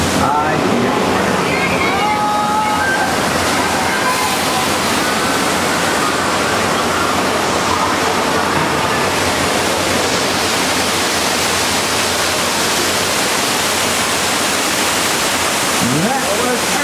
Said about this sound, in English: Wait, do you guys hear water? I hear water.